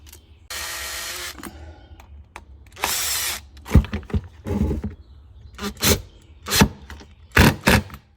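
Power driver fastening bolts back onto an Echo CS-620PW chainsaw, two sustained whirring bursts followed by a string of short, loud clattering and buzzing hits up close, with no speech.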